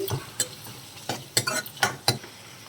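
Tomatoes fry with salt in a pan for pesarapappu gongura dal, giving a soft sizzle under repeated close scrapes and taps of a spoon stirring against the pan.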